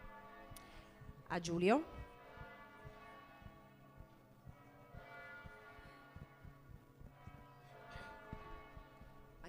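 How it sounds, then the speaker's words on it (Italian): Church bells ringing in a town, faint and somewhat distant with a resonant clang early on and a lingering tolling hum beneath someone speaking Italian indoors. "queste benedette campane, che io adoro, abbassino un po' il volume"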